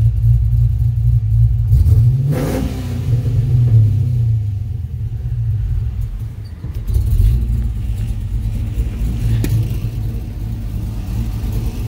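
Restomod 1967 Chevy II Nova with a four-speed automatic, engine idling with a deep, loud rumble and several sharp revs, notably around 2.5 and 7 seconds, close by without talk.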